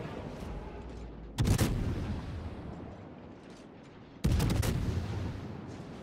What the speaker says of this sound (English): There is some return fire coming.